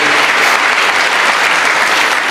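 Steady, loud clapping from a church congregation at a worship service, dense and unbroken from start to finish, with no talking over it.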